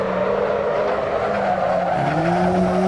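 Race car in the Assetto Corsa driving game braking hard into a turn, a loud continuous engine drone layered with sustained screeching tire squeal that shifts pitch near the end, close and steady with no talk.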